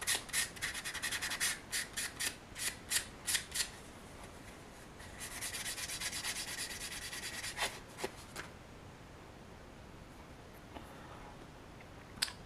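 A resin figure is hand sanded with 320 grit sandpaper in close, rhythmic rasping strokes that keep up an even scrubbing for a while and then fade to quiet.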